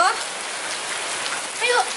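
Steady rain falls with a dense, even hiss, and a few brief louder patter bursts stand out near the end.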